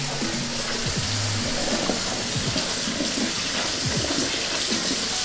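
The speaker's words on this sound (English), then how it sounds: "Get some nice cold water over our Roma tomatoes" Cold tap water runs in a steady, full splashing stream over boiled Roma tomatoes in a kitchen sink, close and continuous throughout, with no talking.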